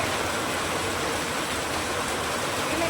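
Heavy first-of-season rain pours down steadily, a dense, even hiss with no breaks and no voices over it.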